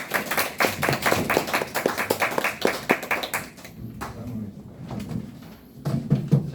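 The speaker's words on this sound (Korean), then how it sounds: "자, 박수 한번 쳐주세요." People at a Korean group session clap together for a few seconds in brisk, fairly close claps. The clapping then stops, leaving quieter room noise and some talking.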